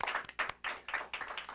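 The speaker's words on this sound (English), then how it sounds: "give a big round of applause for Ponybird and Sean O'Reilly, everybody." A short burst of hand clapping from a small live telethon audience, quick uneven claps, fairly faint and distant.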